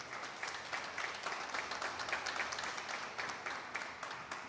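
Steady applause from a church congregation fills the whole stretch, a dense patter of many hands clapping at even loudness without pause.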